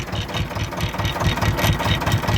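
An Ursus C330 tractor engine idling nearby, a steady, rhythmic low chugging with a faint mechanical rattle on top, running alone with no talk.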